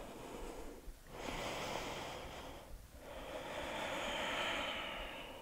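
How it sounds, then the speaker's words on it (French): Deep, slow breathing during a muscle-strengthening yoga pose: long, airy inhales and exhales close to the microphone, each separated by a brief pause, with no talking. "Encore une respiration."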